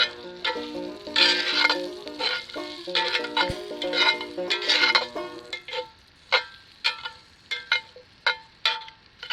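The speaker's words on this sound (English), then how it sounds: "we took the same herbed butter and cooked some mini potatoes in it" Mini potatoes fry in herbed butter in a pan at a backcountry picnic, giving a steady crackling sizzle broken by stirring scrapes, with sharper individual pops and stirs toward the end.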